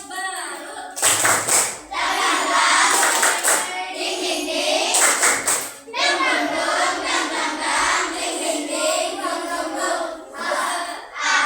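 A classroom of children performs the tepuk semangat clapping chant, loud rhythmic group claps in bursts interleaved with shouted chanting voices, led by a teacher, with short pauses between phrases.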